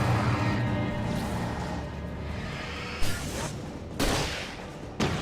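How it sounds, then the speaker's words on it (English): A flare gun fires in Alan Wake, a video game: three sharp, loud bursts with a whooshing tail, roughly a second apart, over a steady low rumble of in-game ambience. "Did not mean to shoot the flare gun"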